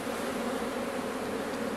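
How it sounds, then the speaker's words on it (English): Dense, steady hum of honey bees swarming around a hive frame as they are shaken off during a single-brood hive inspection, continuous and fairly close with no voices. "shake those bees off."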